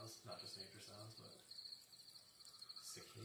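Crickets and cicadas from a nature sound app chirp in a steady, shrill high-pitched trill, with a soft low hum and faint murmuring underneath.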